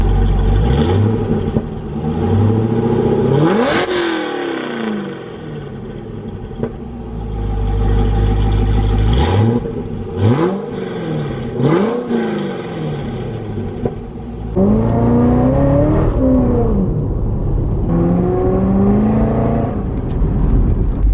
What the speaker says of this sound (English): listen to the sweet sound of a 6-liter V8